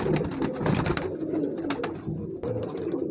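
A flock of pigeons for sale coos steadily at close range. Soft, overlapping throaty calls run continuously with a few sharper flutters and knocks in the background.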